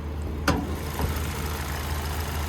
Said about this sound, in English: But there's that 2-liter naturally aspirated 4-cylinder.